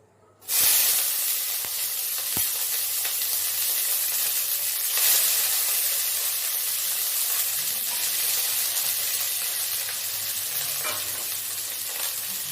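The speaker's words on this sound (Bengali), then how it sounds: "দেখুন, ক্যাপসিকামগুলো আমার হালকা হালকা ভাজা হয়ে এসছে।" Capsicum sizzles and fries in hot oil in a kadai, a bright steady hiss that begins abruptly after a brief silence and holds strong and close, with occasional stirring clicks and no voices.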